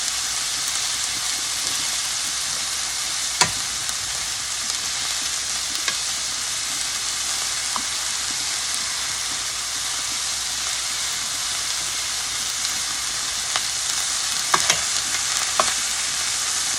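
A ribeye steak sizzles steadily in a hot pan, a broad continuous frying hiss with a few sharp clicks and scrapes as it is flipped and moved, close and even throughout with no talking.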